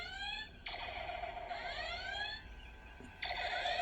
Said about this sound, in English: Got it on red alert.